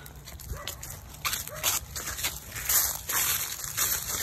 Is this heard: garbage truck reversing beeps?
no